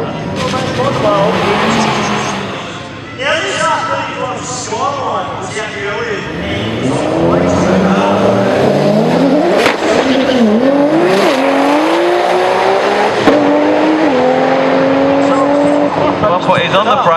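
An 1100hp Nissan R35 GTR on a drag run roars hard through rising and falling gear-change revs, loud and close, with brief tire noise and a voice talking over it.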